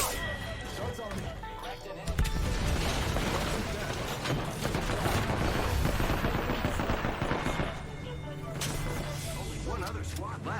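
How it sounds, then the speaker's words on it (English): Gunfire in the Apex Legends video game, rapid bursts of shots and mechanical clatter over a dense busy mix, with a game voice speaking during the action. "Enemies are shooting at me."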